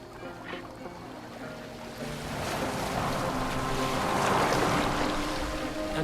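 A Viking longship sails across open water in Assassin's Creed Valhalla, with waves washing and wind rushing around the hull, steadily building louder, while soft sustained musical tones hang in the background.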